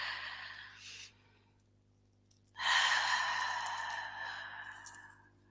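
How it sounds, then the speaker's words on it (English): A close, deep breath: a brief airy intake, a pause, then a long, loud exhale that slowly fades away. "Deep breath."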